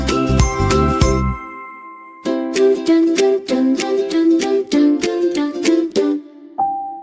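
A bicycle bell in an Urdu children's nursery rhyme rings out in bright, rapid metallic dings, first a quick cluster, then a steady rhythmic run of separate rings ending on one lone chime.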